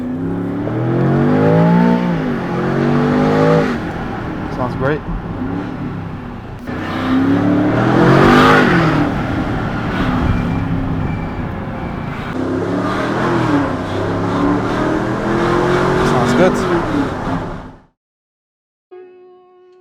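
A supercar engine revs hard several times with the exhaust valves open, loud and close, with a brief voice speaking near the end before it cuts off.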